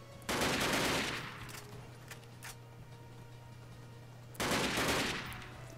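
Gunfire from the video game PRISM comes in two loud, dense bursts of rapid automatic shots about four seconds apart, with a few fainter single cracks and a low steady hum between them.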